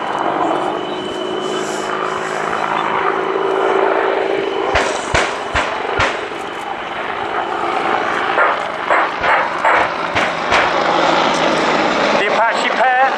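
Apache attack helicopter flying over an airfield during a rocket attack display at an air show, a loud continuous rotor and engine drone with sharp bangs mixed in and a voice talking over it.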